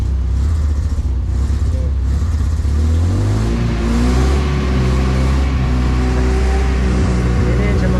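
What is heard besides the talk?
engine revving as its RPM rises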